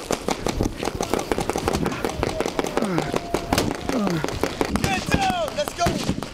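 Simulated gunfire pops in rapid irregular bursts on a Marine recruit training course built to mimic a firefight, sharp cracks scattered amid shouting voices and movement.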